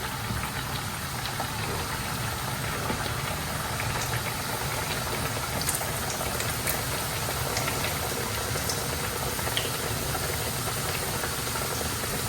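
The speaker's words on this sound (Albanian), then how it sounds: "tani jemi gati për të skuqur petullat e para" Petulla fritters, made from a batter without soda, yeast or eggs, fry in hot oil over medium heat, giving a dense, steady, even crackle of sizzling that carries on for the whole stretch with no talking.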